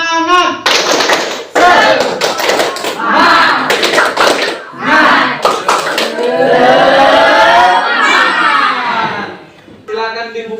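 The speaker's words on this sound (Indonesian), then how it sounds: "Sebelum memulai evaluasi, silakan tepuk semangat." A group in an Indonesian teacher training session performing tepuk semangat, a rhythmic spirit clap in patterned bursts mixed with loud chanting voices, close and energetic throughout.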